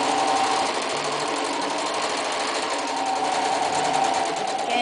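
A sewing machine runs steadily, stitching a channel along the edge of the presser foot on a small fabric rune or herb bag, with a continuous close whirring hum for the whole span and no pauses.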